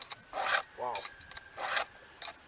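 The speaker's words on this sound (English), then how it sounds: "it looks like I'm filing a lot, and I'm not actually taking anything off the tooth." A hand file rasps across chainsaw chain teeth during sharpening. A few separate scraping strokes come close and fairly quiet, spaced roughly a second apart.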